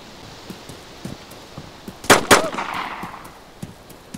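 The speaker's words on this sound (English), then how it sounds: "Run, dude, they're shooting!" A burst of gunfire in the survival game DayZ on a crowded dark server: two sharp loud shots with a lingering echo, set among scattered fainter distant pops.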